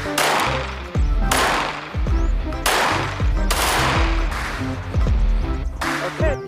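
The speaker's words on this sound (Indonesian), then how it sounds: "Lihat, ternyata tembakan MP9." A Nerf MP9 toy blaster fires in several rapid bursts, each a sharp rattling volley that cuts off abruptly, with brief gaps between them, loud and close.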